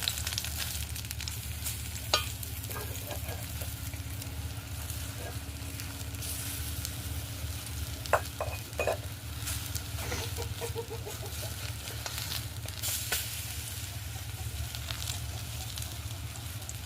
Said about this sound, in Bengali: ছোট ছোট করে বড়ার আকারে ভেজে নেব